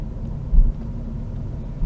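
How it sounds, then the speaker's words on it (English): A Chrysler PT Cruiser cruising in fourth gear at low speed, a low steady engine and road rumble heard from inside the cabin, swelling briefly, without any talk. "I'm in fourth gear doing 20 miles an hour at the moment, and it just doesn't feel at all bothered by that."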